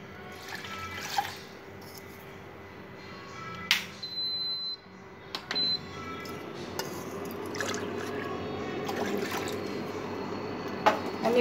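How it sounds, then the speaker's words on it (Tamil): Water poured into a burnt cooking vessel to cover the scorched residue: a continuous trickling and splashing pour, fairly close, with occasional clinks of the pot and a steady flow that builds toward the end. "இப்போ இந்த கரை மூழ்கிற வரைக்கும் நம்ம தண்ணி ஊற்றணும்."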